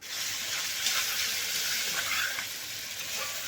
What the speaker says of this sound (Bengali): লবণ দেওয়ার পর ভালোভাবে কষিয়ে নিচ্ছি মশলাটাকে